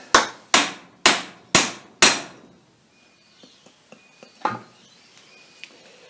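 Five sharp, ringing strikes of a hammer on a chisel land in a steady rhythm, each decaying quickly, followed by quieter scattered clinks and taps.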